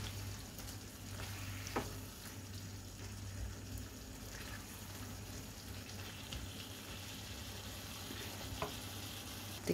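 Eggplant and ground beef sizzle quietly in a pan as they are stirred, a soft steady frying hiss with occasional faint scrapes and clicks of the utensil.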